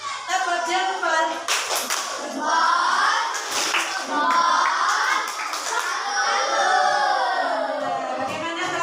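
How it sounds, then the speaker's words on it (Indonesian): A group of children clapping a thumbs-clap routine in a classroom, rhythmic claps mixed with bright children's voices chanting and talking, fairly loud and close throughout. "Tepuk jempol."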